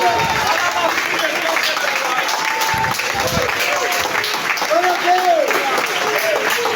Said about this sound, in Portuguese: Você pode exaltá-lo com suas palmas, igreja.